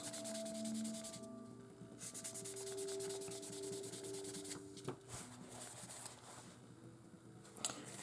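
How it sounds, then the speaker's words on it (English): A 2500-grit sanding stick rubbed in a few quick swipes along the edge of a Kinetic 1/48 F/A-18D Hornet model kit part, a soft, close scratchy rasp in short bursts. "take the 2500 sanding stick, give it a few good swipes"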